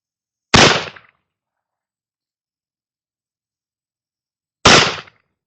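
Two loud, sharp handgun shots fired at a target from 10 yards, each a single crack with a short decay, spaced about four seconds apart in otherwise silent surroundings.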